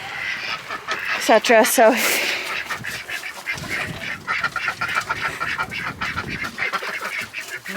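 Ducks quacking on a small farm, a loud burst of several harsh honking quacks early on, followed by softer scattered bird calls and rustling as a person speaks briefly.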